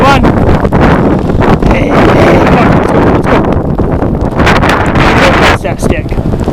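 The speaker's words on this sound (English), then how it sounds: "Get out of the wind, boys and girls." Strong blizzard wind batters the microphone with a loud, continuous rushing roar in gusts, while a man calls out and talks over it outdoors in the snow.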